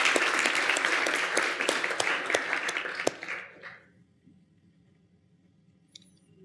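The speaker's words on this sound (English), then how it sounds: "Round of applause, please." A live audience applauds as speakers are welcomed onto a stage, with brisk, fairly close clapping that thins out and fades to near silence halfway through, followed by a few isolated small sounds.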